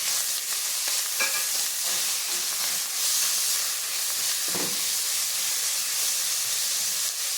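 Tomato pieces fry with ginger garlic paste in a pan, a steady close hiss and sizzle with occasional stirring scrapes and no talking.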